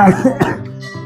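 An elderly man coughs in a few harsh, throaty bursts, close by, with a short spell of voice around them.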